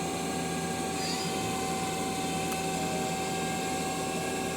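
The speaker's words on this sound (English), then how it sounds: "The main spindle is running at 1500." A Mazak Quick Turn 200MS CNC turning center's main spindle spins at speed, giving a steady whirring machine drone with a high tonal whine, loud and continuous throughout.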